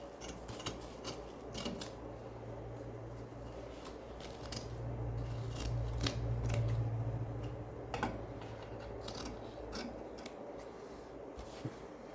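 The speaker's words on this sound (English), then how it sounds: "Scissors work so much better." Scissors snip through car seat cover material during a Triumph TR6 seat recovering job, giving a run of small sharp cuts and ticks over steady low background hum.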